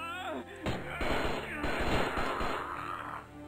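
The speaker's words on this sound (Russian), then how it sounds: "я уже отстрелял свои 2 патрона" Gunshots in the flash shooting game Strike Force Heroes crack out as a quick run of loud, punchy bursts, with a faint low background hum underneath.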